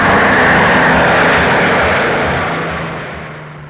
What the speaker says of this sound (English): Harris threw in every bomber he could scrape up for a monumental prestige attack.